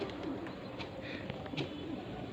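A pigeon of a strong flying breed coos softly and steadily, close by, in a low rolling murmur with faint chirps in the background.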